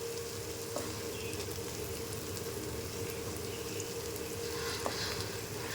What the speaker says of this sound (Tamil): பூண்டெல்லாம் கொஞ்சம் எண்ணெயில் ஃப்ரை பண்ண விட்டுருங்க